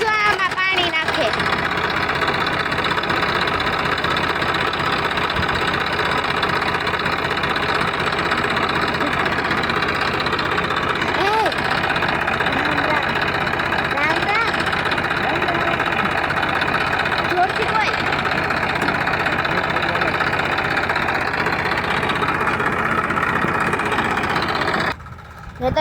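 A tractor engine idles steadily at close range on a farm with onion fields, giving a continuous mid-pitched rumble and knock, while a voice talks over it now and then.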